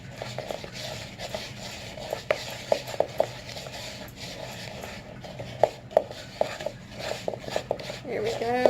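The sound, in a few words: stirring cheesecake batter in a bowl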